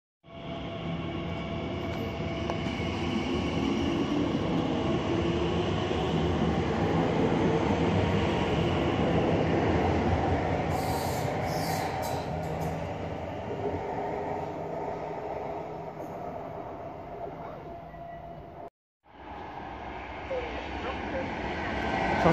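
A Class 345 train rumbles through Gidea Park station, a loud, sustained roar of wheels and motors lasting around twenty seconds, briefly cutting off before resuming.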